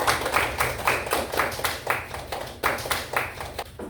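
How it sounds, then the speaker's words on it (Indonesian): Classroom applause for a student group after their presentation in a pharmacy lesson: several seconds of steady, fairly close hand clapping from a group of people, with pulsing bursts throughout. "tepuk tangan untuk kelompok 2"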